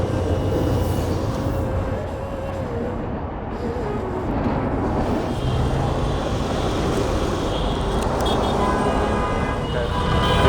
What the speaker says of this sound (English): Another train approaching now.